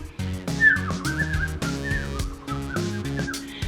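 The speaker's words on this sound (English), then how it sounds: "When I'm not concentrating, I can whistle proper." A person whistles a wavering, uneven tune over several seconds, fairly close, with breathy tones and short pauses between notes.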